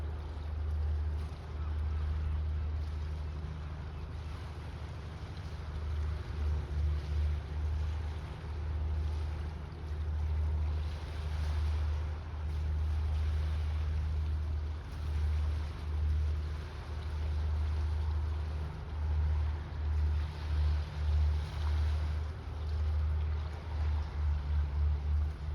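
Ferry sailing across a Scottish loch toward its dock, with a steady low engine drone and rushing wind throughout, the rumble swelling and fading in waves.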